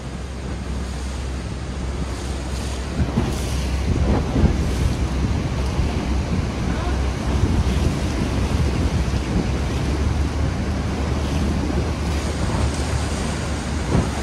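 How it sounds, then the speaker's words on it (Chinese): Rhine Falls waterfall in Switzerland, a steady broadband roar of heavy rushing water heard up close from near the falls, continuous and loud, with wind buffeting the microphone and no talking. "这里水流变得越来越大了。"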